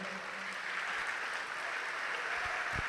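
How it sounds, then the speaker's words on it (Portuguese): A church congregation applauds during a sermon with an even, moderate patter of many hands clapping. A few low thumps appear near the end. "Vamos aplaudir o Senhor."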